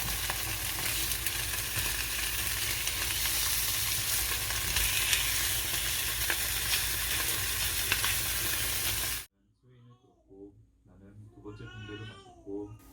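Food sizzles in a frying pan with a loud, steady hiss for about nine seconds, then cuts off abruptly, and a small child babbles and whines quietly afterward.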